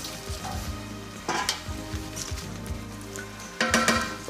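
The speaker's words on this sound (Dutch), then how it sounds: "Veel groentjes gebruiken, dat is altijd lekker." Vegetables, celery and tomato paste fry in a pan for a Breton blue lobster dish, sizzling close up with intermittent stirring scrapes and louder bursts as ingredients are moved.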